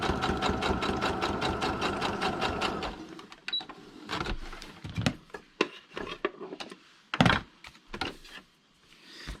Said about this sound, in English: I'm going to switch back to a straight stitch and finish it off.